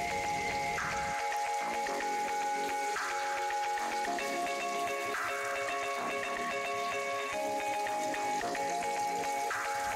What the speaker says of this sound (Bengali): দেখুন আমার মাছগুলো কিন্তু এরকমই ভাজা হবে, এর থেকে বেশি ভাজবো না।